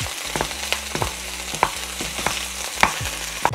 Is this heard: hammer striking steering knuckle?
no